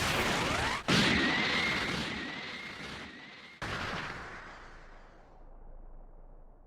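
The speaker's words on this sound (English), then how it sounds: "Special Beam Cannon!" The Special Beam Cannon attack from the Dragon Ball Sparking Zero video game fires with two sharp, explosive blasts, the first carrying a rising whine, then trails off into a fading rumble.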